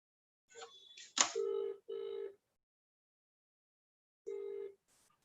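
Telephone ringing as a caller joins a meeting on speakerphone: a burst of electronic tones, two short steady rings in quick succession, then another ring after a pause, clear and close.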